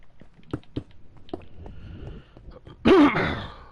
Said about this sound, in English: I truly and sincerely beg your pardon for the coughing